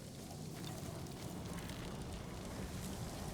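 A campfire burns in a forest in the video game Ghost of Tsushima. It gives a quiet, steady hiss with soft crackling that continues evenly throughout and has no voices over it.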